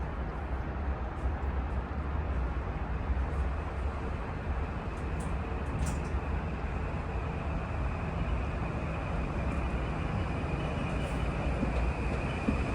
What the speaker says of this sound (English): That's for train 6529. It's coming in right now.